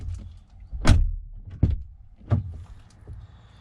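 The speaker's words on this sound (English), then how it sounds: "just close and open the door" Car doors on a Cupra Formentor being shut and opened, three solid thunks spaced under a second apart with faint rustling between, close by and no talking.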